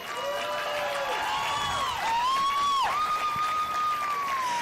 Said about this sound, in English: Give them a big round of applause out here.